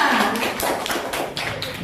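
A classroom of students claps for group 6, a short burst of scattered, uneven hand claps at moderate distance that tapers off within a couple of seconds.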